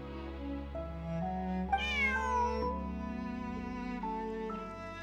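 A cat meows in the video game Genshin Impact, a few drawn-out, tonal calls with rising and falling pitch, clear and close, backed by soft sustained game music.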